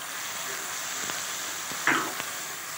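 Blended tomato and chili paste fries in a pan with a soft, steady sizzle, punctuated by a few light stirring clicks and one brief louder hiss.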